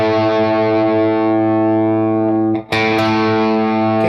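An electric guitar played through distortion and effects holds sustained octave notes whose tones beat and pulse against each other while being tuned, with a brief cut as the string is re-fretted before the loud droning notes return.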